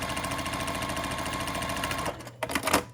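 A sewing machine stitches across quilt block fabric in a fast, even mechanical rattle for about two seconds, then stops, followed by a few soft handling clicks and rustles.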